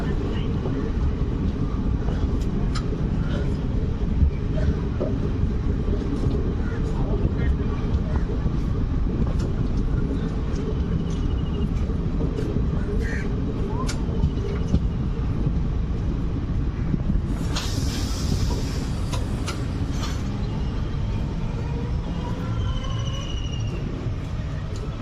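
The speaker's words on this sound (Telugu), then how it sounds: "మన ట్రైన్ అయితే పమ్మన్ నుండి స్టార్ట్ అయిపోయింది." The 16751 Chennai Egmore–Rameswaram Express pulls out of Pamban station, a continuous low rumble of the moving train with wind buffeting the microphone and a few faint clanks throughout.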